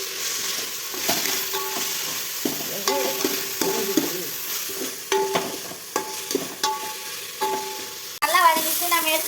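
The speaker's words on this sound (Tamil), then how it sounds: "அது பாதி பாதி நல்லா கிண்டி விட்டுக்கலாம்" Tomato rice sautéing in a pan with herbs, a soft sizzle under repeated scraping stirring strokes and light spoon clinks against the pan, ending in a louder burst of sizzling.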